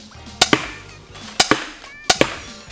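Cheap spring-powered airsoft pistol from a starter kit being cocked and fired, three sharp paired snaps spaced about a second apart, close and loud over a quiet room.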